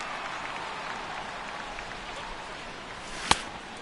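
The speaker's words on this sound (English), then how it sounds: "the rain continues to fall here" Steady rain falls over a baseball stadium, a soft continuous hiss with a single sharp crack near the end, heard alone without voices.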